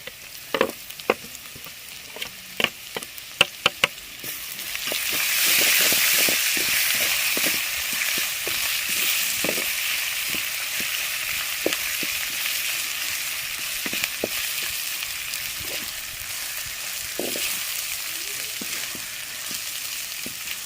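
Garlic and ginger fry in a pan for an egg dish, a few sharp clicks of stirring at first, then a loud steady sizzle that rises and carries on with scattered taps of a spoon against the pan.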